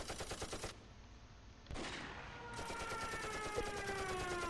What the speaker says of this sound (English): Yeah, they are taking effective machine gun fire.